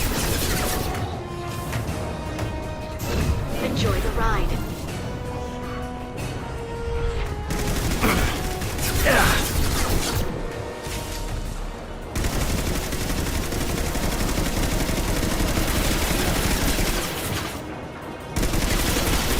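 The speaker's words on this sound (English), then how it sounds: "Well, at least she's shooting him." Gunfire from the video game Mass Effect rattles on in dense, continuous bursts that mix with crashes and booms, loud and close throughout.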